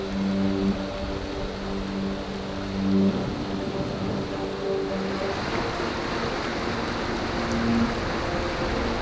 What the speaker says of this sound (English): Rain has moved in.